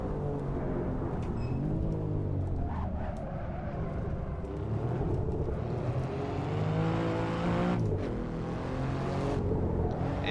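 A lightly turbocharged car in the Assetto Corsa racing game revs and pulls hard, its engine note rising and falling steadily and loudly throughout with no pauses.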